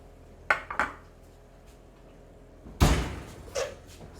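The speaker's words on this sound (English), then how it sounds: "I'm going to take it out from my oven." Baked egg muffins loaded with veggies come out of a home oven after baking at 350 Fahrenheit: a couple of light clinks, then a loud door thud and pan clatter, with no talking.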